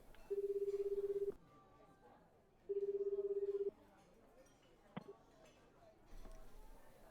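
In a video game, a telephone rings twice as steady electronic ring tones about a second long each, separated by a pause, followed by a click and faint background talk.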